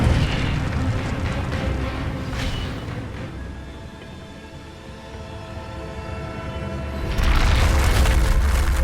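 The Incendio fire spell is cast in Hogwarts Legacy on PS5, a deep rumbling roar that fades to a lower drone and then surges into a heavy booming burst near the end.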